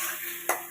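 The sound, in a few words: stirring spices and taro for hilsa fish curry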